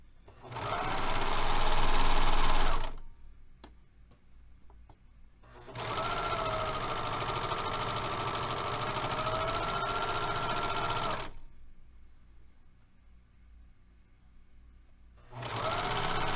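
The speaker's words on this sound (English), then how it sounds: "the very last stitch is to serge the raw edges of the inseam" A serger stitches the raw edges of a trouser inseam in three separate runs, each a loud, close, steady whir, with short quiet gaps between them.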